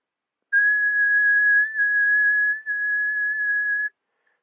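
A person whistles a single steady, pure high tone, held for about three seconds with two tiny breaks, clear and close in otherwise silent surroundings.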